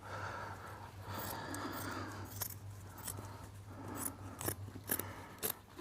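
Scissors cut the selvage off upholstery fabric while a Parker Knoll sofa is being recovered, with a series of close, crisp snips and rustling fabric, sharper cuts clustering toward the end.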